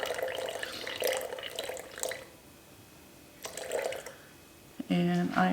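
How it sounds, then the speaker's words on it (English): Warm water is poured into a glass jar for sourdough, a close, splashy trickle in short bursts with pauses between them. "So I'm adding 125 grams of warm water."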